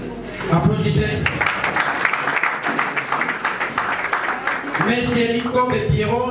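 Audience clapping fills a political party meeting hall, a steady dense patter under a loud announcer's voice that continues over it.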